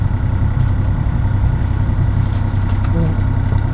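A sailboat's engine runs steadily while motor-sailing in calm seas, a constant low rumbling drone that stays loud and unchanging throughout.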